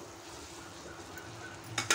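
Macaroni with red chilli powder is stirred in a pan over a low, steady sizzle, with a couple of sharp scraping clatters near the end and no talking.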